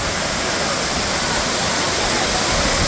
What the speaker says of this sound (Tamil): இப்போ ஃபால்ஸோட அது பக்கத்தில் வந்திருக்கோம்.